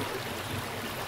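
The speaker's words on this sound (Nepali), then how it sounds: "यसरी कुनै कुलो हेरिरहेको छौँ। यो पानी चाहिँ कुन छ साइडबाट लिएको हो" Water running steadily along a hillside irrigation channel in rural Khotang, Nepal, a continuous broadband rush and trickle, close and even, with no voices.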